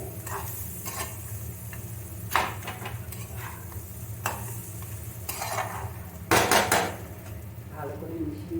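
A spoon stirs fried fish-head curry in a metal pot, with scattered scraping clinks and knocks against the pot over a low, steady sizzle.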